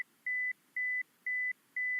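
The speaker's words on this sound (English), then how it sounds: "And now we press the buzzer and see the reaction" A buzzer sounds during a rat pole-climbing test for sedative drugs, four clear steady beeps of about a quarter second each, evenly spaced by short gaps, loud and alone over near silence.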